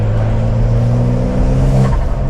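Porsche 911 engine driving on roads in Napa Valley, a steady loud drone with strong low harmonics, swelling briefly in a rev near the end, with no talking.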